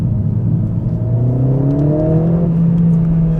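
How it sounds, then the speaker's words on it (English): A Mercedes CLA45 in race mode on a wet, icy road, its engine droning loud and close inside the cabin with a steady whirring rise in pitch, like the car pulling through a gear. "The downshifts are so much more aggressive when you're in the sport modes."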